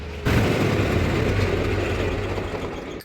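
A tractor engine runs at a steady idle, loud and close, with a constant deep throbbing hum after a sharp rise in level at the very start.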